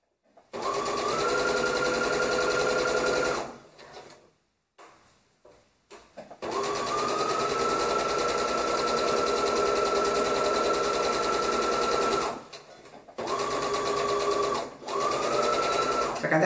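A sewing machine stitches a 5/8-inch seam on fabric folded right sides together, running in long steady whirring bursts with short pauses between, close and loud.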